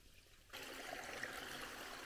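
Slow-moving water trickling and flowing through a swale in an agroforestry planting, a steady soft wash that begins abruptly and continues evenly nearby.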